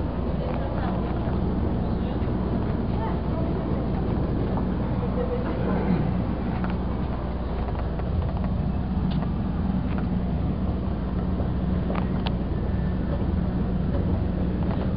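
A KONE traction elevator by Montgomery in a shopping mall runs with a steady low mechanical rumble and faint intermittent rattles, continuous and close throughout.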